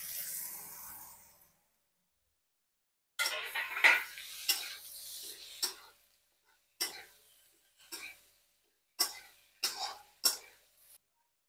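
Chibbar, a small wild gourd, goes into a pan of fried potatoes and onions. A spoon scrapes and clinks against the metal in short, separate bursts, with a brief soft sizzle between quiet pauses.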